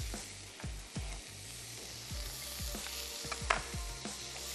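Mushrooms sizzle and fry in a pan of chicken qeema, a loud close hiss broken by clacks as a spoon stirs and scrapes the pan.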